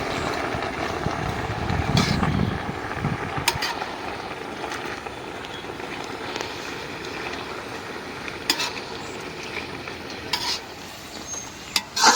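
Vegetables, including ridge gourd and Malabar spinach, frying and being stirred in a pan, with a continuous sizzle and scraping stirs that are louder near the start and steady after, with no talking.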